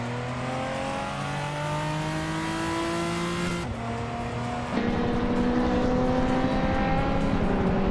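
Peugeot 205 Rally engine from a racing game, droning steadily at high revs with climbing pitch, then a gear shift dip and renewed louder acceleration.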